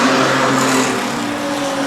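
Street stock race cars roar out of turn four and around the oval, a loud blend of engines at full throttle that fades slightly as the pack moves on.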